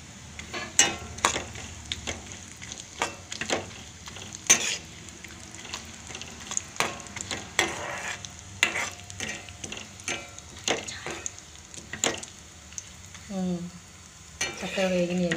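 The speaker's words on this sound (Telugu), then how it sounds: "జీడిపప్పు అలాగే బాదం పప్పు వేసుకుంటాం కదా, కొంచెం వేగనిద్దాము." Cashews and almonds fry in a pan with a steady soft sizzle, while a utensil stirs them in frequent scraping clicks, close and fairly quiet.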